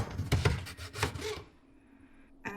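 A knife cuts through a tomato on a board, giving a few quick rasping, scraping strokes up close, followed by a short quiet stretch and one last soft knock.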